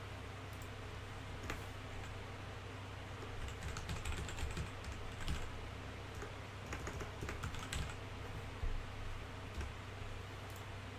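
Steady computer keyboard typing, a rapid irregular patter of key clicks close by, continuing without pause over a faint background hiss.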